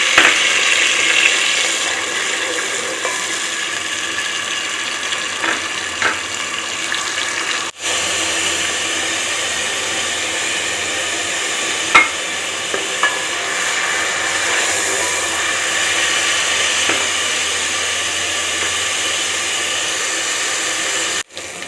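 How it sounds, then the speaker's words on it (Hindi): Chopped onions fry in a pan for a dhaba-style egg and potato curry, giving a steady, even sizzle with occasional light scrapes and clicks of stirring throughout, with no voices. "चलो अब इसमें प्याज डाल देता हूँ।"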